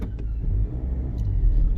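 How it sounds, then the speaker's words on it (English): Busy road traffic heard from inside a moving car: a steady, loud low rumble of engine and road noise with passing vehicles, and no talking. "Traffic's quite busy today."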